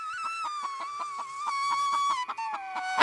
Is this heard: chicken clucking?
yes